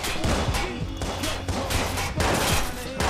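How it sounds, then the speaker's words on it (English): Rapid gunfire aimed at the player in the video game Watch Dogs, a dense, loud barrage of overlapping shots and impacts with heavy bursts repeating throughout. "Somebody's shooting me."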